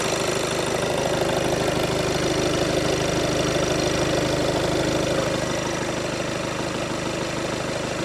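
A 2015 VW Golf SportWagen 2.0 TDI diesel engine idles steadily with its plastic engine cover laid loosely on top, a constant muffled hum and fine clatter running unchanged without any talking.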